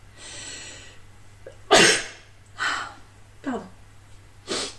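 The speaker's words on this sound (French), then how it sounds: "je vais éternuer." A person sneezes indoors, a sharp explosive burst preceded by quick intake breaths, followed by a few smaller sniffs and a second sneeze-like snort.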